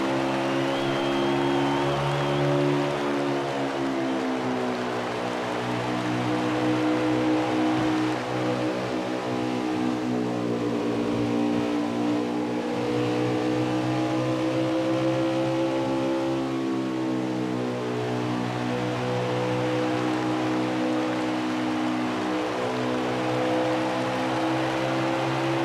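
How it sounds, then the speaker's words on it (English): Onboard a NASCAR Truck Series race truck at Dover, the engine holds a steady, loud droning roar almost the whole time, with gentle rises and dips in pitch as the throttle stays mostly pinned. "Just listen how much time he's on the throttle."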